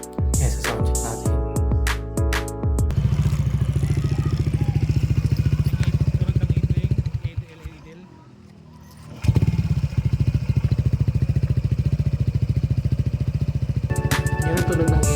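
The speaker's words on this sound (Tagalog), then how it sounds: "Kung naka-idle siya, ganyan ang tunog." A Honda ADV160 scooter idles steadily through an MT8 aftermarket exhaust pipe, with a rough, throaty exhaust burble, close and loud, briefly dipping quiet before resuming.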